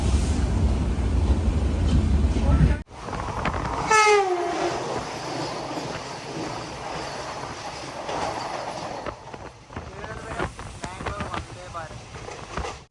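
Passenger train arriving at Akathumuri railway station in Kerala, a long horn blast with rising then falling pitch over steady wheel rumble and clatter, close and loud; a voice talks briefly near the end.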